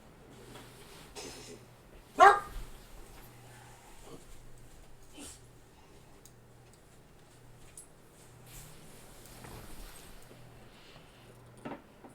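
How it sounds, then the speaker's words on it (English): A dog lets out one sharp bark near the start, then only faint shuffling, ticking and quiet background noise follow. "You can't just start barking because you didn't get your way."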